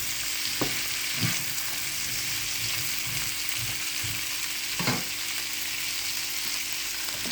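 Mung beans (balatong) and tomatoes fry in a pan with a steady, hissing sizzle, broken by a couple of soft stirring knocks, close and even throughout, with no one speaking.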